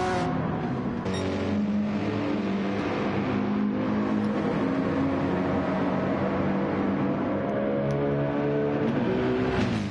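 Racing cars in Gran Turismo 7 at the Red Bull Ring, several engines droning and revving together with rising and falling pitch as they run downhill, loud and continuous.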